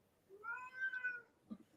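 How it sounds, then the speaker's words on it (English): A house cat gives a single drawn-out meow, faint and fairly close in a quiet room, followed by a soft brief rustle. "I heard your cat."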